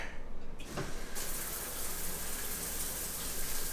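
Hotel shower at a Disney resort villa running with weak, low water pressure: a steady soft hiss of falling water that starts after a brief knock or handle click, continuing evenly throughout with no talk.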